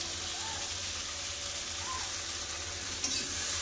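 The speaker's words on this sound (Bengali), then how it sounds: "ভাজা হয়ে এসছে, একটু উপর থেকে কুচানো পেঁয়াজ দিয়ে দেবো।" Chopped onion frying in a pan of mustard-paste curry, a continuous soft sizzle with faint stirring and a brief clatter near the end.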